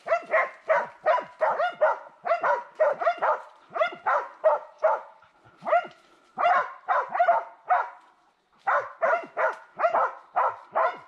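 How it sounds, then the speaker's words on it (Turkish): Hunting dogs bark relentlessly during a wild boar hunt, a fast series of loud, close yaps and bow-wows in rapid bursts with short pauses, sounding like several dogs at once. "Ya karşıda da köpek var."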